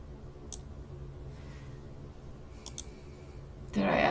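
A computer mouse clicking while photo folders are added for editing, a few sparse, crisp single and double clicks over a quiet room hum, followed by a louder rustle at the end.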